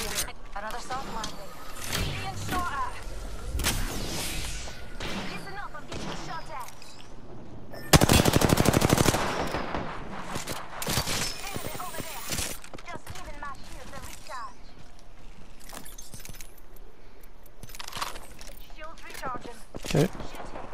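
Video game gunfire crackles in rapid automatic bursts and scattered shots, with one dense, loud stretch of sustained firing midway, under and between a player's talk.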